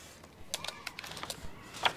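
Keys tapped on a computer keyboard at a monitor in a pretend play setup, a quick uneven run of light clicks and clacks with a louder burst near the end, no talking over it.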